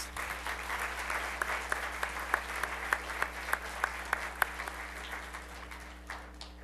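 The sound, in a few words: audience applause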